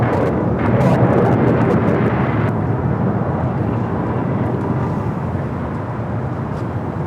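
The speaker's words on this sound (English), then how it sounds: "787-9 Dreamliner with KLM." A KLM Boeing 787-9 Dreamliner at LAX airport produces a broad, steady jet roar that stays loud throughout and eases slightly toward the end, with no voices.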